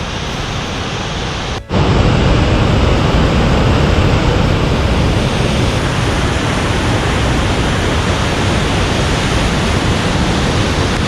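A mountain waterfall on the climb up Bishorn in the Alps roars as a loud, steady rush of broadband water noise; it drops out briefly near the start, then pours on unbroken and close.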